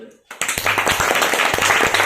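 An audience at a motivational talk bursts into loud, close clapping after a brief silence, with voices mixed in among the claps.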